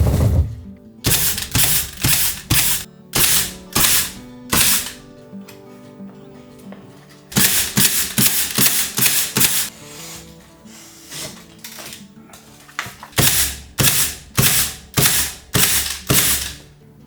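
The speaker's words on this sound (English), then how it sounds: "I staple it neatly in straight lines onto the columns and studs." Staple gun fastening a 0.2 mm membrane onto wooden columns and studs, sharp close clacks fired in quick rhythmic bursts of five to eight shots with brief pauses between runs.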